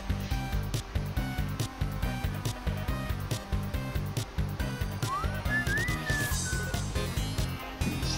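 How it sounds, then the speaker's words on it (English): Sonic whistles a short rising tune in the LEGO Dimensions video game, a thin melodic line riding over loud, steady rhythmic game music. "Stop whistling, Sonic."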